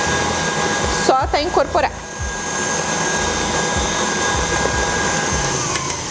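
Electric stand mixer beating chocolate cake batter, a steady whirring motor hum running throughout, with a brief woman's remark in Portuguese near the start over the machine noise.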